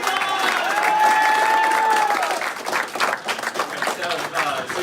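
An audience at an improv comedy show breaks into applause and cheering, which fades into scattered clapping while a performer keeps talking over it.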